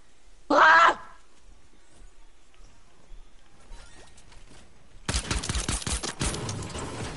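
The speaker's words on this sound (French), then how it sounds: "Ça tire!" Burst of video game gunfire, a loud short volley near the start, then a louder dense stretch of rapid shots toward the end, with quiet gaps between.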